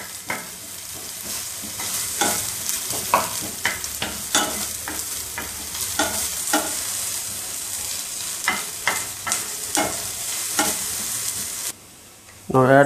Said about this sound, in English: fry until brown color.